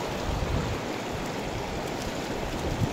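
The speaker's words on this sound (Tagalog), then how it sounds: "Ang lakas ng tubig ito mga kaibigan." Strong, clear water of the Panipyason River in Madalag, Aklan rushes by in a steady, dense broadband wash, close and continuous, with no voices over it.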